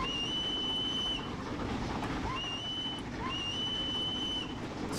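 Whistle of the Flying Scotsman, an A3 steam locomotive, in Train Simulator 2021, giving three thin, level toots over a constant rumble of rolling wheels and the running engine.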